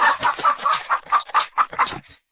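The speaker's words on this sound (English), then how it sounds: "It squawked loudly and flapped its wings." A chicken squawks loudly in a rapid run of about ten harsh clucking bursts, close and alone, ending abruptly after about two seconds.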